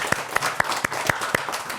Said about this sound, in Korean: 네 분에게 박수 한번 드립니다.